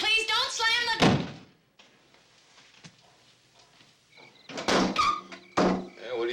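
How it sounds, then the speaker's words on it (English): A door thumps shut in a drama scene set in a family home, a single muffled impact heard right after a voice. A quiet pause follows, then more talk. "And please don't slam the door."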